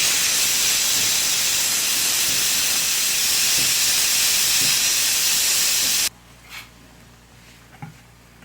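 Steam hisses loudly and steadily from a pressure cooker on a stove, its lid being vented after fifteen minutes of whistling while cooking sarson ka saag, then stops abruptly, leaving faint kitchen clatter.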